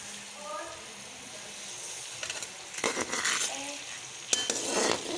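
Masala and chickpeas frying in a pan while being stirred, with a soft sizzle under clinks and scraping bursts of a spoon against metal; a voice briefly sounds between the stirring.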